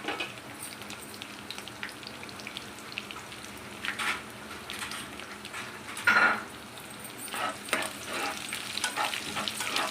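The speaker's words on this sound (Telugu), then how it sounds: "ఒక చిన్న ఉల్లిపాయ అండి సన్నగా పొడుగా కట్ చేసుకోవాలి, అది కూడా వేసేసేయాలి. వేసి ఫ్రై చేసుకోవాలి." Thinly sliced onion fries in oil with dried chillies and curry leaves for a capsicum besan curry, a soft continuous sizzle broken by occasional scraping stirs and louder crackling bursts, close up with no talk.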